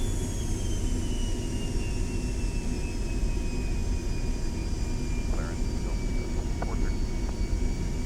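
Airliner engines whine steadily as the plane rolls along the taxiway after the parking brake is released, a constant loud jet drone with high tonal whistles and occasional faint clicks.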